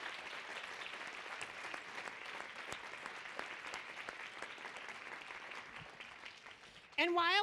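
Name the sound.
conference audience applause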